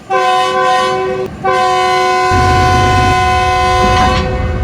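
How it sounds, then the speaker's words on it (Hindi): Shunting locomotive arriving at a station sounds a loud, sustained multi-tone horn twice, a short blast then a long one, over the rising rumble of its engine. "शंटिंग लोकोमोटिव की आमद हो चुकी है।"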